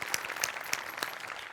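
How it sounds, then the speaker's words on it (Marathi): Studio audience applause on the Marathi TV comedy show Maharashtrachi HasyaJatra, a brief burst of scattered claps at moderate loudness with a few sharper individual hand claps standing out. "मस्त झाला परफॉर्मन्स. जोरदार टाळ्या."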